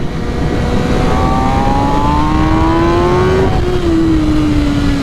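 A 2021 MV Agusta Rush motorcycle with an ECU flash tune accelerates hard, its engine note climbing steadily in pitch through one gear, dipping briefly at a shift, then rising again under constant loud wind roar.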